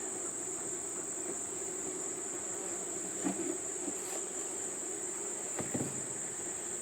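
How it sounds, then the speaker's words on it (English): A faint, steady honeybee buzz drones throughout from a new hive, with a couple of brief louder passes close by over a soft, windy outdoor background. "We've got a few bees."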